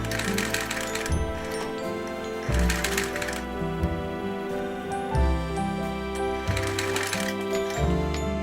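A sewing machine stitches around the corner of a tote bag in bursts of rapid mechanical clatter, pausing briefly between runs, close and steady with no talking.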